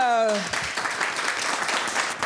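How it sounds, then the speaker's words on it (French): A TV studio audience bursts into dense applause for guests, a mother and her daughter, following a short musical sting, loud and continuous right to the end. "On va applaudir notre check du jour de ce soir, Bella et sa fille."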